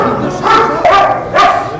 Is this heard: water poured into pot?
no